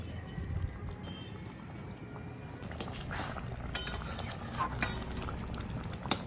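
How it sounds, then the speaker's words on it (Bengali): Garam masala paste is stirred into vegetarian stuffed pointed gourd dolma in a pan, producing soft, continuous scraping and stirring with a low simmer underneath and a few brighter clinks of the spoon toward the end. "গরম মশলাটা দেখুন খুব ভালো করে মিশিয়ে দিলাম"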